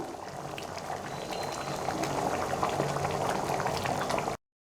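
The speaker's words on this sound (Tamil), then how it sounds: "எல்லாம் சேர்ந்து நல்லா கொதிக்கட்டும்." Brinjal curry with fried eggplant bubbling and simmering steadily in a pot, a continuous close bubbling with small pops, no voices.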